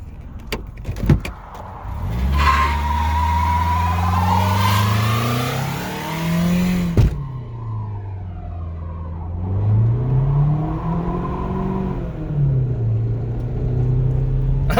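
A cheap project car accelerates hard with one rear wheel spinning, the engine revving up and down in loud, close sweeps, with a couple of sharp clunks and a brief mechanical whine at the start.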